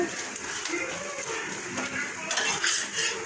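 Pan-frying a roti laid over egg for an egg roll, with soft sizzling and metal utensil scrapes and clinks against the pan, a bit louder near the end, close up.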